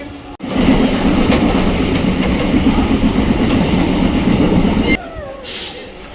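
A train at a railway station rumbles loudly and steadily, with clattering wheels, for about five seconds. Then the noise cuts away to quieter ambience.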